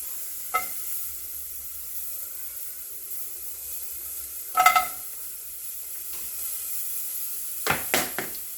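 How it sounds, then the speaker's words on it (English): Sausage and meat browning in a hot pot, a quiet steady sizzle with a few sharp bursts of crackle and stirring scrapes, the loudest flare near the middle and a cluster of pops at the end, close by, no talk. "we're gonna brown these up to build flavor in the pot"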